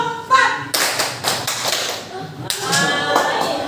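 Rhythmic hand clapping in a counted tepuk exercise led with a group, sharp claps in a steady sequence mixed with a voice speaking over them, close and fairly loud.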